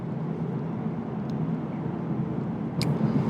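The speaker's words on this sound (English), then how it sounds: "Nice kind of incognito engine sound." A 2020 Kia Stinger GT-Line with its 2.0L turbo engine hums at a quiet, steady drone while driving, low and muted from inside the cabin, with no voices.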